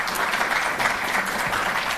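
A crowd at a Delhi government sports event applauds para-athlete Sharad Kumar with dense, continuous clapping that holds at an even, loud level throughout.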